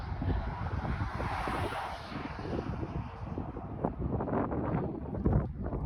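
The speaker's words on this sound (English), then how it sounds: "The wind is not stopping." Strong wind buffeting the microphone during a motorcycle ride on a cold, windy day, a loud continuous roar with gusty rumble and no speech.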